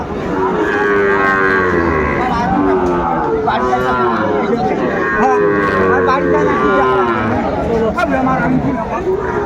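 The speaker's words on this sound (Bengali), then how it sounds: "শাহিওয়াল বাচ্চা ষাঁড় বাচ্চা" A Sahiwal bull calf at a cattle market moos repeatedly in long, loud, drawn-out calls, close by, over a busy crowd hubbub with people talking.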